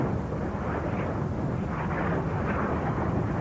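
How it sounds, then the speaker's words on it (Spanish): Continuous deep roaring rumble of Kuwait's oil wells burning during the Gulf War, with dull booming explosions surging and falling, distant and unbroken. "Por todas partes, llamaradas gigantes y explosiones que cubrían el cielo"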